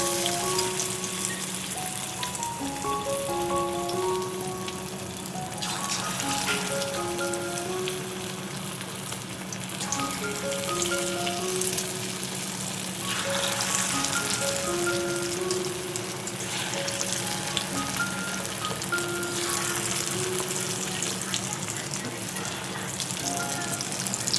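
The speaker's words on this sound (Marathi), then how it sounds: "आता हे छान असं मॅरिनेट झालेलं आपलं एक एक पीस आपल्याला छान असं या तेलामध्ये सोडून द्यायचं आहे" Marinated chicken pieces fry in hot oil in a kadhai, giving a steady, rain-like crackle and sizzle that keeps on throughout, with soft background music and some brief bursts of louder bubbling.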